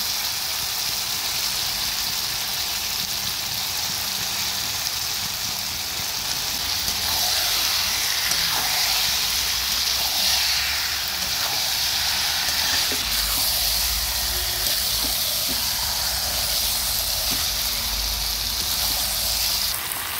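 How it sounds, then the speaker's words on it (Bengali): Chicken pieces go into fried spice paste in a pan, setting off a loud, continuous sizzle and hiss that holds steady for the whole stretch, with a deeper low rumble underneath in the later part. "এখন দিয়ে দেবো মাংস।"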